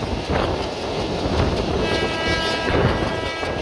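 A train on the Mongla line rumbles past nearby with a steady, broad roar and faint rhythmic wheel clatter, and a horn sounds partway through, with no talking.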